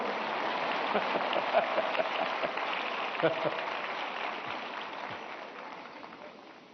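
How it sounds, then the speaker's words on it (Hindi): Students in the audience at a large Pariksha Pe Charcha event clap together, a broad, crowd-wide applause that gradually fades, with voices faintly underneath. "आपकी पसंद की बात आई तो ताली बजाते हो आप लोग"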